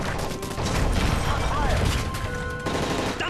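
Rapid bursts of gunfire crackle over a loud, dense mix of effects and shouting voices, with metallic mechanical clatter underneath, during a plane hijacking in Call of Duty: Modern Warfare 3.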